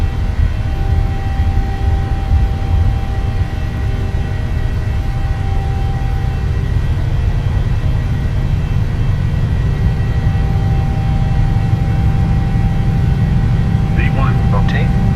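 Jet2 airliner engines spool at takeoff power in Microsoft Flight Simulator, producing a loud, steady, broadband roar that holds for the whole stretch, with a few faint chirps near the end.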